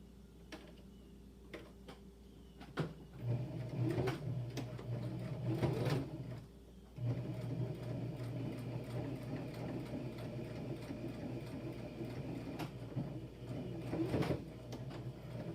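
Sewing machine stitching fabric for a face mask, running in steady bursts of rapid mechanical whirring, broken by short pauses and handling clicks, close and moderately loud.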